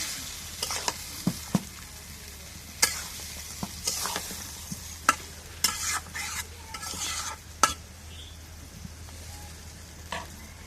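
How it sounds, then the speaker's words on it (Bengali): Fish frying in a pan on a clay stove outdoors in a village setting, steady soft sizzle with repeated sharp scraping and stirring clatters spaced every second or so, close by and without talk. "মাছ ভেজে নিই"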